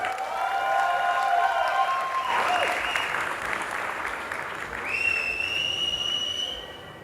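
Sustained applause from a crowd at a wedding reception, thick continuous clapping with scattered voices and a whistle-like tone rising near the end.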